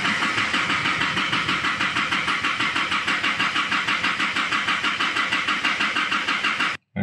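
An Isuzu 4JJ1 diesel engine cranking at night after a failed suction control valve, the starter churning in a fast, even rhythm for nearly seven seconds, loud and close, then cutting off abruptly without the engine catching.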